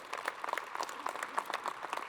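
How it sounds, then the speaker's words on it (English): Audience clapping for event sponsors at a small business gathering in Savannah, a thin, fairly faint patter of scattered hands. "Give them a big round of applause"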